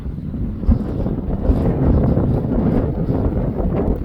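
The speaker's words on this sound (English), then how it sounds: "I can hear the power lines making noise with the wind." Gusty wind buffeting the microphone beside East Beaver Creek in Copco Valley, a loud low rumbling roar that swells and eases throughout; no distinct hum from the power lines stands out beneath it.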